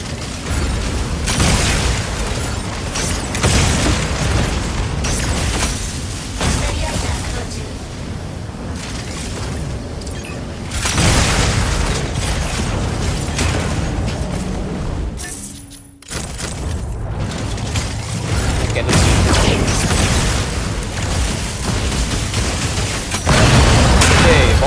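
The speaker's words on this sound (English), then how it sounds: "And he's dropping rocket." A boss dropping rockets in the mech combat game Mecha BREAK, with a long barrage of loud booms, blasts and rapid gunfire, one brief lull midway before the explosions resume at full intensity.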